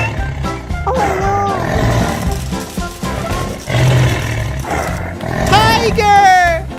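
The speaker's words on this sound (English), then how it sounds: "Tiger!" A cartoon tiger lets out loud roars and growls amid excited children's voices and lively animated-show chatter, the roaring swelling toward the end.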